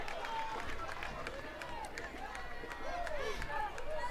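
A college softball crowd in Austin jeering an umpire's call with a Bronx cheer, a broad murmuring rumble of many voices with whistling tones rising and falling, fairly loud and continuous.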